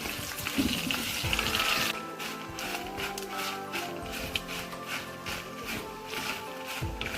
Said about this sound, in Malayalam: ഈ മുളക് മൂത്ത് നന്നായിട്ടൊന്ന് മുളകിൻ്റെ ആ ഒരു മണം വരുന്നവരെ നമ്മളിതൊന്ന് മൂപ്പിച്ച് കൊടുക്കണം